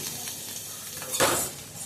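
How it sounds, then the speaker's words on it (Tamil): Ridge gourd peel sautéing in hot oil for a Tamil chutney, a steady close sizzle with a brief louder stirring scrape partway through. "பீர்க்கங்காவை எடுத்து நம்ம இந்த மாதிரி எண்ணெய் ஊற்றி வதக்கிக்கலாம்"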